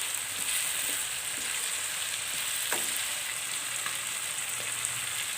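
Apple and red chili pieces fry in a pan with a constant soft sizzle and crackle, joined by a few light taps and stirs, close up and without speech.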